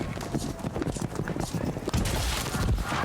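Horse hooves gallop in a rhythmic clip-clop during a jousting run in the video game Defender of the Crown, steady and fairly close under game sounds with some talking.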